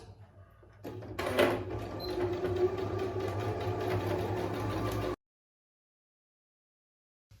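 A sewing machine stitches through aligned layers of fabric for a small zippered pouch, whirring steadily for about four seconds at close range, then stopping abruptly into silence, with no speech.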